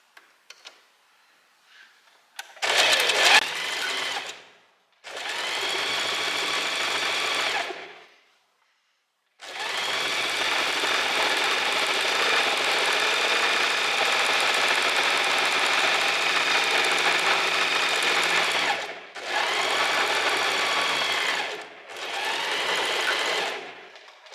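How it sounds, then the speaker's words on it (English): Sewing machine stitching fabric close to its edge, running in steady buzzing bursts: a short one, a medium one, a long continuous run, then two more short runs, separated by silent pauses. "now we are going to sew along here, and I want us to sew relatively close to the edge"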